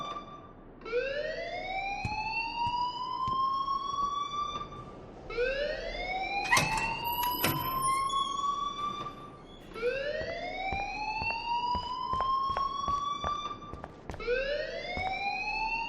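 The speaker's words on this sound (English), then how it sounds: "please turn off that alarm since that's your job" A fire alarm blares in the video game Life is Strange, repeating rising siren-like whoops about every four seconds, steady and loud, with brief clattering sounds in the middle and no talk over it.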